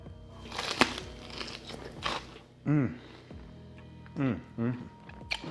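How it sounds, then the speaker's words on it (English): Crunchy Korean fried chicken is bitten and chewed close up, giving several crisp crunches spread across the moment, with a voice making drawn-out sounds between bites. "Did you hear that crunch? I tell you, take another bite."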